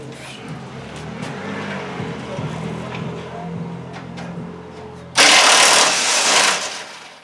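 A car rushes past close by, a sudden loud broadband roar that bursts in after steady low rumble and fades over a second or two.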